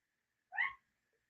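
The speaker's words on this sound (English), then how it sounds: "Oh my God, here's the cat again. I know you hear him." A single short meow, fairly clear and close, lasting about a quarter second in otherwise quiet surroundings.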